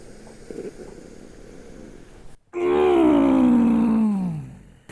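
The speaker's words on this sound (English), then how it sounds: "I'm gonna take a deep breath in here real quick" A deep, loud inhale sniffing a new pair of Adidas D Rose 4 Home sneakers, one long drawn breath with a groaning, voiced edge that follows a brief quiet moment.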